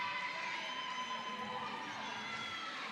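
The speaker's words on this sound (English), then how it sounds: "The crowd's getting into it." Crowd at a roller derby game, steady broad cheering and noise from spectators, moderately loud and continuous with no distinct voices standing out.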